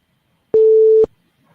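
A single steady electronic phone tone while a call is placed, about half a second long with clicks at start and end, loud and close, then silence.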